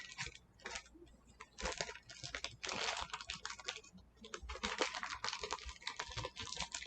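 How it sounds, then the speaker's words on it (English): A Sailor Jupiter figure being unwrapped from its packaging, heard as close, faint crinkling and rustling of plastic in irregular bursts with short pauses, without speech. "now we're unwrapping the Sailor Jupiter"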